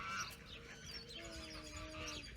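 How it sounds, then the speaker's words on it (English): Chickens cluck and murmur at a nature sanctuary, soft, faint calls that rise and fall in short phrases against quiet background noise. "So now we're by the chickens."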